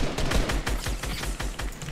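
Rapid gunfire in a video game, a burst of repeated sharp shots in quick succession, loud and close, with no talk.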